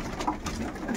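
Pigeons coo steadily inside a pigeon loft, several soft, overlapping throaty calls close by over a low murmur of the birds moving about.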